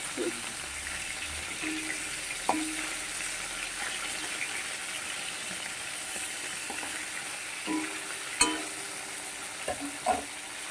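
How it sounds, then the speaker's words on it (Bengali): Large pomfret fish frying in a pan of hot oil at home, a steady broadband sizzle running throughout with a few sharp spatters and utensil taps scattered across it. "মাছগুলোকে ভেজে নিচ্ছি"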